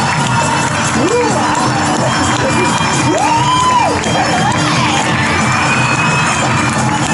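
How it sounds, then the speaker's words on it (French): A crowd at a knights-versus-barbarians show in Angers cheers and claps, with rising whoops and children's shouts riding over a constant roar of hands and voices. "Je vais vous demander de faire un tonnerre d'applaudissements pour les barbares"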